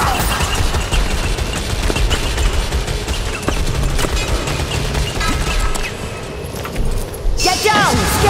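Rapid gunfire from a Skaven gun in the Castle Drachenfels level of a fantasy video game, a dense continuous rattle of shots with crashes mixed in, loud and sustained throughout.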